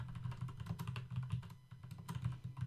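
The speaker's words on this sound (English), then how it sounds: "You can probably hear my keyboard, can't you?" Steady typing on a computer keyboard during a home recording setup test: rapid, close clatter of keystrokes with soft thumps, continuous for a few seconds with no talking.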